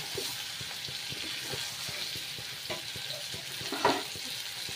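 Chicken frying with green chilies and garlic gives a soft, steady sizzle in the pan, broken by irregular scraping knocks of stirring and one sharper clatter near the end; fairly quiet and without speech.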